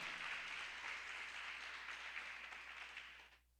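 A congregation in a church applauds together in a dense, continuous wash of clapping that fades out near the end.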